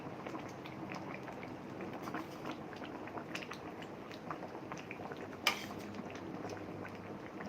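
A pot of Thai sour curry with moringa bubbles at a steady simmer as pieces of mackerel cook in it, a continuous close bubbling with one sharp clink partway through.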